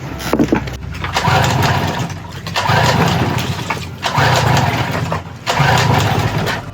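A broken dinghy outboard engine, out of the water, is pulled to start several times in repeated bursts, each catching briefly with a loud, close mechanical chugging before dropping off.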